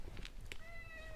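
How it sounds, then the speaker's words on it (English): A house cat gives a short, faint meow, a single brief cry close by in a quiet room. "that's my cat"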